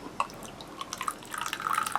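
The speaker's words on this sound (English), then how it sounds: "And if I just show you the pour" Hot coffee pouring from a Thermos King 470ml flask, a quiet trickle with scattered drips that builds into a steadier, close stream over about two seconds.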